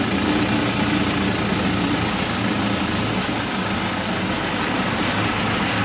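A Dellif Strong 1800 mini loader working in a barn storeroom, its engine idling with a steady, loud, low rumble and vibration that fills the whole stretch without a break.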